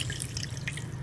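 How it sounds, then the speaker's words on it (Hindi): Crustless bread slices dipped in water and pressed by hand, giving brief close watery drips and soft squelching with no speech. "अब हम इसे पानी में डिप करेंगे ऐसे तरह हाथ से दबा के।"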